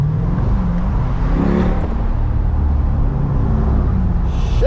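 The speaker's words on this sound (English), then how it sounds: "You hear that downshift, boy?" A Corvette C8 drives in Malibu traffic with a loud, steady engine roar that swells briefly as it downshifts and revs, heard close from inside the car.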